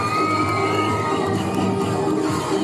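A crowd cheers and shouts, children's voices among them, for a troupe of folk dancers at a museum in a shopping mall, a steady dense roar of voices throughout.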